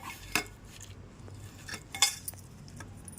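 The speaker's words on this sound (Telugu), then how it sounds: "ఇవన్నీ కలిపి ఈ కొబ్బరి తురుములో ఇవన్నీ కలపాలండి" A spoon scrapes and clinks against a bowl while mixing grated coconut with spices for chutney, a few sharp metallic taps between softer stirring sounds, close and fairly quiet.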